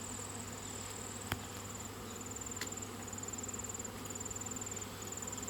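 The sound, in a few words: honeybees buzzing around an opened hive during inspection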